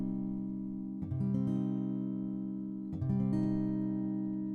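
A guitar chord is strummed twice and left to ring out, sustaining clearly between the strums.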